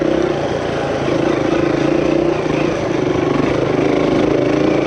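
A 230 dirt bike engine runs steadily while being ridden, producing a loud, continuous close buzzing drone with a slight wavering in pitch and no pauses.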